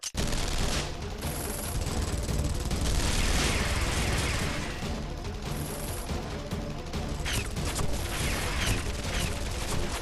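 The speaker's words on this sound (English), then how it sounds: "Open fire!" Sustained, dense gunfire from soldiers rattles on without pause in the video game Guilty Gear Strive, loud and close, with a clattering mechanical texture layered through the barrage.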